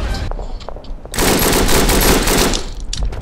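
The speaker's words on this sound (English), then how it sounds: "we got two LMGs over here" Light machine gun fire in the World War I shooter Verdun, a loud sustained rattling burst of rapid shots in the middle, with scattered gunfire before and after.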